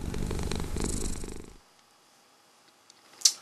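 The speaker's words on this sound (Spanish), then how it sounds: "Es un gato." A cat purrs loudly and close for about a second and a half, a rough rhythmic rumble that stops abruptly, followed by near silence and a brief faint noise.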